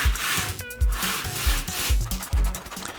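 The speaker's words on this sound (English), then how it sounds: "I'll give it a nice sanding on the bottom to make it really flat" Sanding the bottom of a combat robot base part flat by hand, rhythmic back-and-forth rubbing strokes with a low thump at each stroke, close and fairly quiet, no voices.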